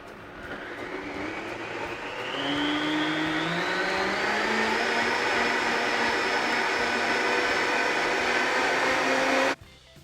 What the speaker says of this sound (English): So we're just going to blend it all together now